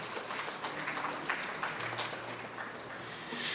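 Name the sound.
audience applause for competition winners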